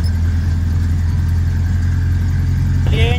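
Owner-type jeep engine driving out toward the highway, a loud, steady low rumble heard from inside the vehicle, continuous with a brief higher whine near the end.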